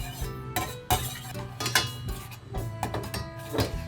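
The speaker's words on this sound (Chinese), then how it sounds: "都加完之后，我们开小火慢慢搅拌" A utensil scrapes and taps against a metal pan in an irregular stirring rhythm over low heat, mixing ketchup-based oyster omelet sauce, with occasional clinks, close and moderately loud.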